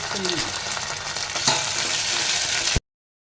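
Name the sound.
mustard seeds sizzling in hot oil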